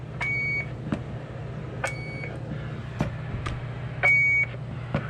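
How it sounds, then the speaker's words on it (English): A CB radio roger beep sounds as short electronic tones at the end of transmissions, repeating a few times over a steady low hum and radio hiss, with no talk. "And here's your Roger beep."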